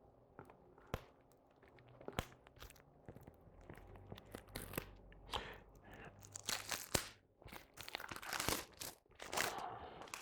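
A sealed Aesop Rock Spirit World Field Guide vinyl record being unwrapped up close, with sharp crinkling, tearing plastic and crunchy rustles coming in irregular bursts that grow busier toward the end.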